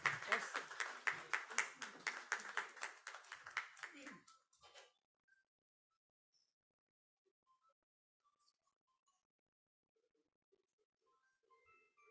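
Audience at a BlendED 2.0 education partnership event in Mumbai claps for a few seconds in loud, close, rapid bursts. The applause tapers and stops abruptly, leaving near silence with only faint scattered noises.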